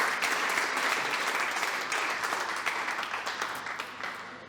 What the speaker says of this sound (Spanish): Así que dense un aplauso por estar aprendiendo.